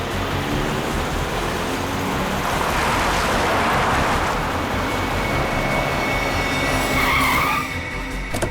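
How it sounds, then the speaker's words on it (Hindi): A car driven fast roars past with loud tire squeal and skidding, a continuous harsh noise that swells in the middle and again near the end, close and dominant with no talk. "गाड़ी बहुत तेज चला रही है।"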